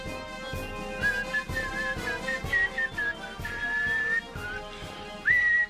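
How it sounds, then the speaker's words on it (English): Someone whistles a wavering melody close by, sustained notes sliding up and down over soft rhythmic music in the background. "I got to override your whistling as this music is finishing"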